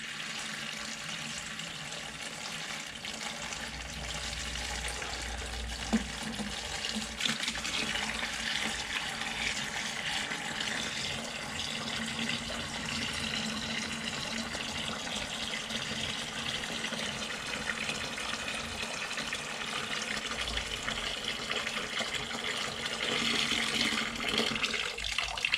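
Rainwater pours from a watering can into a bucket, a steady continuous splashing gush that holds roughly even for about twenty-five seconds, close by, with a slight rise in rushing hiss toward the end.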